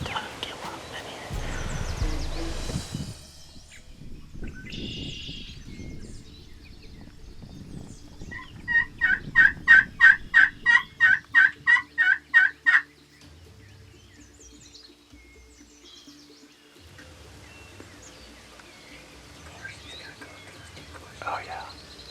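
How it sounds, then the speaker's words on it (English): An Eastern wild turkey gobbles in a Missouri spring woods during a hunt, giving one rapid, rattling burst of pulses at moderate distance. Quiet whispering and soft movement come before and after it. "He got down here and was gobbling."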